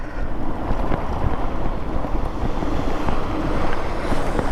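An electric motorcycle rides along a city street, heard as a continuous roar of wind buffeting the microphone with a broad rushing rumble and no motor whine standing out, and no one speaking.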